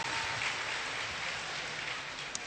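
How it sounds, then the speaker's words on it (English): Audience applause from a convention panel crowd, a steady dense wash of clapping that holds at an even level throughout with no voices standing out. "I think that's worthy of a round of applause"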